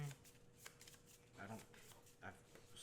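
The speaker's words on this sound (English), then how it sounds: "I will shuffle." A deck of cards is shuffled during a Marvel Villainous tabletop card game, with soft riffling bursts and a couple of louder flurries under faint voices.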